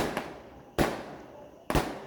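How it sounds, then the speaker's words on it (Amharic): Three sharp firecracker bangs spaced about a second apart, loud and close, each with a brief crackling decay over a low background. "ርችት ነው እንዴ?"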